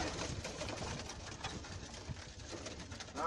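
Rolling pigeons in a backyard loft coo softly and repeatedly, close by, over a faint outdoor background with no talking.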